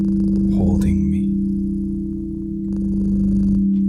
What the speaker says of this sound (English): They say cats purr can lower your blood pressure, but I know it can heal incredible wounds.